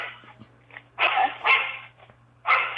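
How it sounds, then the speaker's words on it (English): Dog barking indoors, close and loud, with three bursts of barking separated by short pauses, softer yips and whimpers, and a steady low hum underneath. "My dog says hi."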